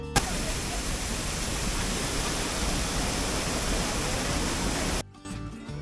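Waterfalls beside the winding Malshej Ghat road give a loud, steady, broadband rush of falling water that fills nearly the whole clip, then cuts off abruptly near the end.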